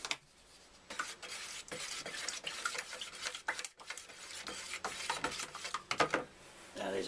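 Tile grout mixed with extra 2-in-1 latex being stirred by hand in a container, a steady scraping, sloshing churn with irregular knocks and clicks of the stirring tool, close and continuous with a brief pause midway.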